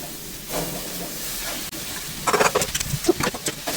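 Washed fenugreek leaves hit a hot pan for methi sabji, giving a steady loud hiss and sizzle that swells into crackling bursts near the end.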